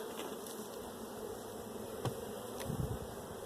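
Honeybees hum in a continuous soft buzz during a beehive frame inspection, close and fairly quiet, with a few faint clicks and knocks from handling.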